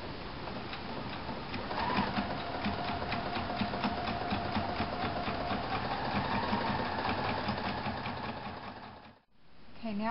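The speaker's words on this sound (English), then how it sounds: "then you finish sewing your design, and the last color is going to be the seam" An embroidery sewing machine stitches a design with a fast, steady mechanical chatter and rapid needle pulses, fairly close, stopping briefly near the end before resuming.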